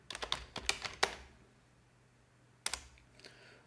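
Computer keyboard typing in two short bursts of quick clicks, a longer run followed by a pause and a brief second flurry, close and clear with no talk.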